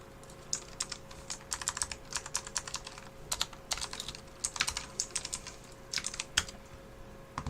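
Fast, irregular clicking of keys on a computer keyboard, close and quiet, in short bursts over a faint steady hum.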